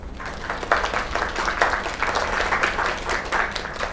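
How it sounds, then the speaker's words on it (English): Applause from an audience in the video game Lake, steady clapping sustained at moderate volume for several seconds. "Another round of applause."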